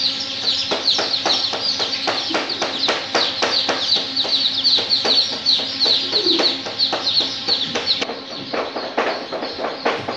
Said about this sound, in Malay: anak ayam atau DOC yang baru menetas